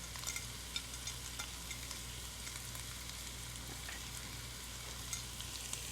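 Chopped onion fries in a pan with Kashmiri chili, a steady close hiss of sizzling oil with faint scrapes of stirring running throughout, no voices.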